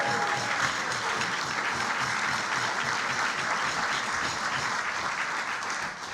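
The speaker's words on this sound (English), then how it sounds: "Let's give them a round of applause." Steady applause from a large crowd at an alumni dinner fills the whole stretch, dense and even, with no voices standing out above the clapping.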